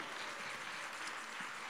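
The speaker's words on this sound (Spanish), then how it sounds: "vamos a darle un aplauso mucho más fuerte" A congregation at a Spanish-language church worship service applauds, a faint, steady spread of many hands clapping heard from a distance, with no voices over it.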